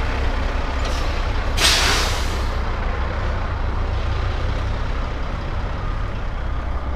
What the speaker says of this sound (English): Truck pulling up.